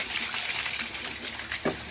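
Water gushing steadily at a roadside spring, a continuous bright wash of flowing water heard close and alone.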